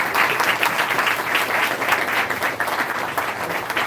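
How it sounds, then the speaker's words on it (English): A crowd at a presidential campaign coffee event on disability issues claps steadily and warmly, a thick continuous wash of hands with no break and only faint voices underneath. "Let's give Mercy another round of applause"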